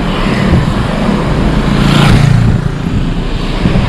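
A Toyota Kijang LGX climbing a steep uphill road, its engine giving a loud, steady, labouring drone under load amid road noise, with no talk.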